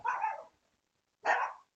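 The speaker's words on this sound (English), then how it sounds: "The neighbor dogs are going crazy up there." Neighbour dogs bark twice with sharp, fairly loud barks that are separated by a second of silence, coming from somewhere a short distance away.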